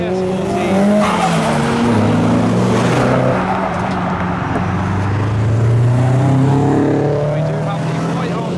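A white Nissan Skyline R34 tuner car and other Japanese modified cars leave the Japfest car show, engines revving and droning nearby with rising and falling pitch and some tyre noise, voices underneath.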